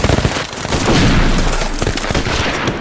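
Battle gunfire from a Maxim machine gun on the Somme front: a dense, loud, continuous rattle of rapid shots and booms with no pauses, close and harsh.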